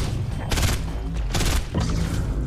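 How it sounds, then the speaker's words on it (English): Rapid Fortnite gunfire volleys bursting in dense clusters, loud and close, with brief pauses between sustained rattles of shots hammering at a cube. "They're shooting the cube, bro!"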